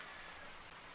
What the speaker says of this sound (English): broken only by the sound of the drizzle falling that pattered around us